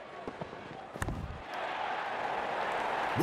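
In Real Cricket 24's India vs Pakistan T20 World Cup match, a crisp bat-on-ball crack rings out over a low crowd murmur that then rises to a steady roar, with a second sharp knock near the end.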